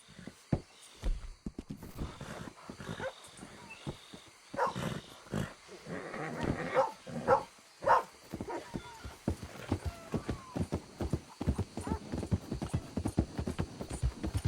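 Horse hooves clip-clop in Red Dead Redemption 2, with irregular, fairly close hoofbeats and scattered animal noises throughout.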